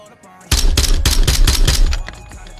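A rapid burst of loud, close video game gunfire, many shots in quick succession for over a second, then stopping abruptly.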